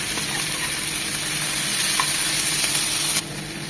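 Diced tomatoes and onions fry together in a pan, hissing in a continuous close sizzle with faint stirring scrapes, briefly softening near the end.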